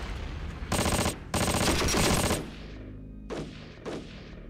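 Mortar crew attacking in the Ardennes Offensive strategy wargame Decisive Campaigns: two loud, dense bursts of rapid gunfire and explosions, then two fainter, shorter blasts with a fading rumble between them.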